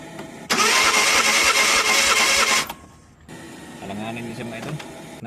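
A non-turbo Suzuki DA64V engine, misfiring and shaking, comes in with a loud, rough, harsh roar that cuts off abruptly, then returns as a quieter, uneven idle with a stumbling, irregular pulse.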